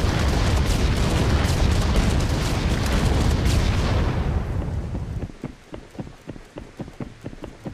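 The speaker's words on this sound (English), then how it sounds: "That's my cluster bomb right there." Cluster bomb blasts in a battle royale shooter game: a dense, loud rumbling barrage of overlapping explosions for several seconds, fading into a quieter series of separate sharp impacts and pops near the end.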